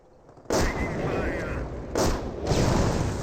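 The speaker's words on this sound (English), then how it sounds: "We're seeing some AT gun shots there, another booby trap thrown right there." Booming gunfire and artillery blasts from the Company of Heroes 1 strategy game, including anti-tank gun shots, hitting hard at about half a second and again near two and two and a half seconds over a constant battle rumble, with speech overlaid.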